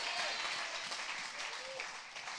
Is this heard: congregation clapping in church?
yes